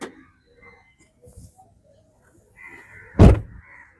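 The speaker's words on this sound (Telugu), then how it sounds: "ఫ్రంట్ లెఫ్ట్ డోర్ అండి ఇది." Front left door of a 2017 Hyundai Grand i10 Sports petrol hatchback shutting with one solid, close thunk near the end, after quiet handling noises.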